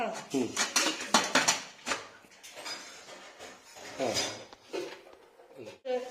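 Metal clatter and clinks from AMC stainless cooking pots as a lid is locked on, a series of sharp bangs and taps close by, with a few softer rattles between.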